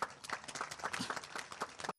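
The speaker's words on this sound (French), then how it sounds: "Je vous demande d'applaudir, monsieur le directeur général." Applause from an audience honouring a director general at a ceremony, steady dense clapping across the whole stretch before cutting off abruptly.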